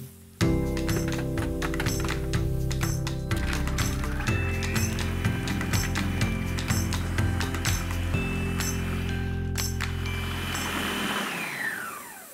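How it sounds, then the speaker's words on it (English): Kitchen blender whirring steadily as it grinds romesco sauce into a thick paste, a loud continuous motor drone with shifting pitch and rattling chunks before winding down at the end. "now I'll blend this until a thick paste forms"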